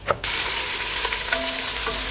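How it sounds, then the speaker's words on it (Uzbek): Chopped onion and celery fry lightly in oil, giving a steady, close sizzle with faint stirring clinks and no voices. "Bu arada biz piyoz bilan selderni doğrab olib turib, shu yog'imizda yengil qovurib olamiz."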